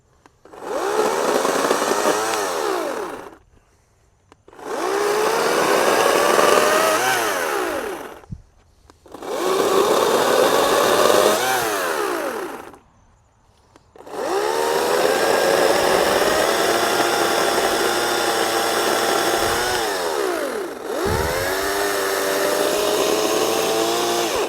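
Gas-powered chainsaw cutting wood, a loud, close, buzzing engine roar in four long bursts separated by short pauses as the saw revs and cuts.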